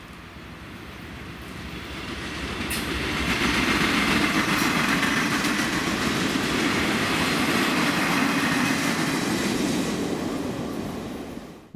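A Norfolk Southern freight train hauling radioactive waste, led by an ES44DC locomotive, rumbles toward a rail junction, swelling from distance to a loud, sustained roar of wheels and wagons before easing slightly, with no voices.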